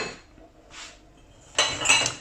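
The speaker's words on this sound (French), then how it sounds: "Là, je suis en train de vider mon lave-vaisselle." Dishes clink as a dishwasher is emptied at home: a faint tap at the start, a soft clink a moment later, then a louder cluster of clattering plates and glasses near the end, with no talking.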